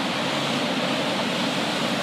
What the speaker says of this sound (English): That noise, not just is the waterfall,